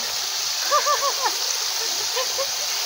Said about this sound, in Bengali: ঝর্ণা থেকে জল পড়ছে আর সেই জলে আমাদের পুচকু স্নান করছে এখন